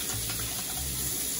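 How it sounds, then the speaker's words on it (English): Water runs steadily from a kitchen tap as hands are washed beneath it, a continuous close splashing hiss with no talk over it. "Wash your hands again."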